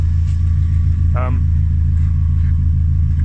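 A classic Mini fitted with a Honda VTEC engine idles close by, a steady deep rumbling hum throughout, with a brief voice cutting in once.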